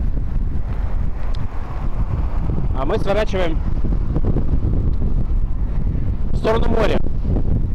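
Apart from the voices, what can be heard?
wind noise while cycling toward the sea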